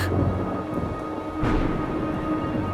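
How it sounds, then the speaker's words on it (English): Steady rain falls with a low rumble of thunder rolling underneath, a constant wash of noise with no voices. "It started raining"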